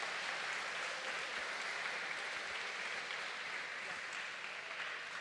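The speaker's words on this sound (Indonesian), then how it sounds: "Tepuk tangan buat mereka semuanya." Applause fills a school Easter worship service, a steady, dense wash of clapping from a large gathering that holds evenly throughout without pause.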